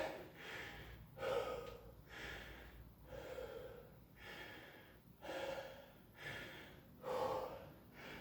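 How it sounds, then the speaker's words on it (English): Heavy breathing after a whole-body circuit training session, a series of deep, rhythmic inhales and exhales repeating roughly every second, close and fairly quiet with no talking. "Nice deep breaths."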